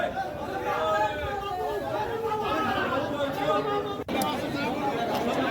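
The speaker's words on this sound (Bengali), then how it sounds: "বন্ধুরা দেখতে পাচ্ছ মানুষের ভিড়।" Steady crowd chatter and babble from many people at the Chaitra fair at Gourinath Dham, dense and close, with a brief dropout near the end.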